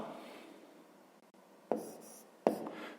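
Marker or chalk writing on a board during a Ukrainian fifth-grade maths lesson: faint scratchy strokes with a few sharper taps.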